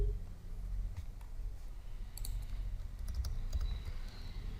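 A phone number being typed on a computer keyboard: a quick run of soft, close key clicks over a low steady room hum, with no talking.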